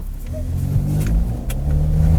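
The diesel engine of a 2015 Volkswagen Touareg revving during a test drive, a loud, steady low rumble that rises and falls slightly through the clip.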